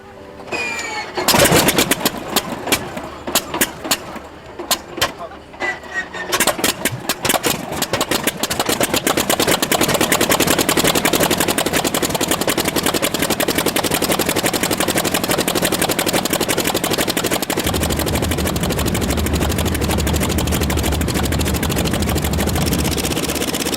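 A Polikarpov I-16 Russian monoplane fighter's radial engine sputters and coughs through sharp irregular bangs as it starts at an air show, then settles into a loud, steady roar.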